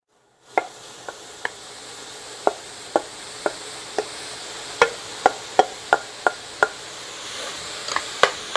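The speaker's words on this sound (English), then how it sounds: "And we got a bell pepper, an onion, and about a cup of mushrooms. We're going to saute that" Bell pepper, onion and mushrooms sautéing in a pan, a soft steady sizzle punctuated by regular sharp clicks and taps of a utensil against the pan, roughly every half second.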